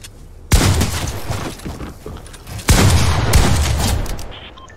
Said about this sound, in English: Matthew, are you shooting?